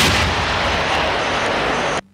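Loud, sustained blast of artillery fire from an army artillery corps exercise in Kachia, a continuous roaring boom that cuts off abruptly into near silence.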